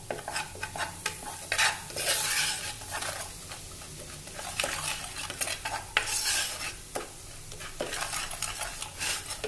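Garam masala being stirred and sautéed in a pan for chicken masala: a steady sizzle under repeated scraping of a spoon against the pan, with uneven bursts of stirring throughout and no talk.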